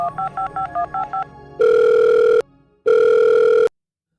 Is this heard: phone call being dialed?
yes